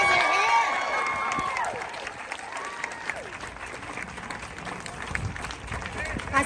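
A crowd claps outdoors at a Mother's Day walk for peace in Boston, steady dense applause throughout with cheering and voices calling over it.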